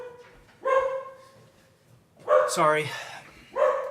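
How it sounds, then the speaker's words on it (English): Several house dogs bark and yip indoors in short loud bursts, three barking outbursts separated by pauses, close by, while a person speaks briefly during the commotion. "Let me get my dogs out of here real quick."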